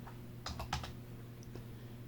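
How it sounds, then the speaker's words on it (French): A few quick, faint keystrokes on a computer keyboard tap out a short burst in a quiet room over a low background hum. "On tape bien 1080"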